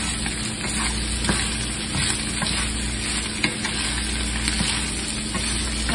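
Potatoes fry with ground beef in a pan for picadillo, giving a steady, close sizzle with occasional stirring scrapes and no voices.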